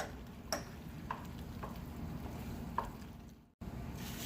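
Boiled macaroni is stirred in a pot for mac and cheese, giving a few faint, irregular taps and scrapes over a steady low background hiss.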